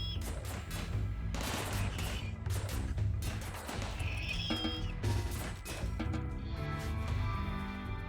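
Turret gunfire against scythers in the RimWorld video game, a dense continuous barrage of game shots and impacts layered with music, loud and sustained throughout.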